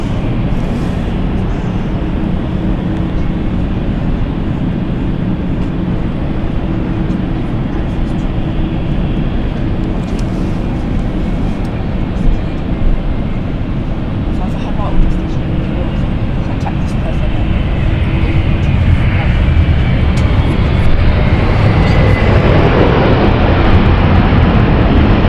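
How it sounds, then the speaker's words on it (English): A Bombardier Challenger 350 business jet inbound from Munich arriving at London City Airport on a Thursday evening, its steady engine roar swelling louder toward the end, with voices talking over it. "This is the Munich flight with the Bombardier Challenger 350."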